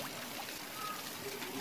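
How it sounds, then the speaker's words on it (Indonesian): Steady rushing and splashing of the Wae Mabuange waterfall at a natural bathing spot in Barru, a continuous moderate water noise with no voices. "Kita lihat juga ini ada air terjun."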